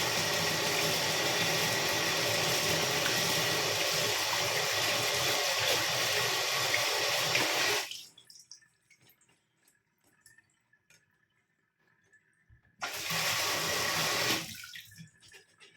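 Fruit in a sieve rinsed under a running kitchen tap, a steady loud rush of water for about eight seconds, then near silence, then a second short burst of flowing water.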